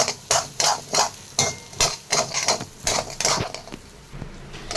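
Vegetables for fried rice, including carrot, stirred in a pan, a spatula knocking and scraping in close, loud, regular strokes about two per second, with a sizzle beneath.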